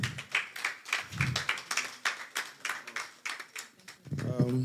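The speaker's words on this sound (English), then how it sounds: "Let's give him a round of applause." Conference attendees at a talk on inclusive development give a round of applause, individual hand claps heard in a loose, uneven rhythm, fairly faint, while a voice comes in at the end.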